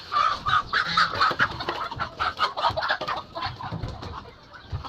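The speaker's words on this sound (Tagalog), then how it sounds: "mahirap manghuli ito barako to" Rooster, a stud bird in a backyard, clucking and squawking in agitated bursts while being chased and caught, loud and close with scuffling throughout.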